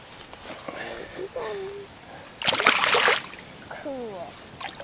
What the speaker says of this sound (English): you want me to put him back in the water?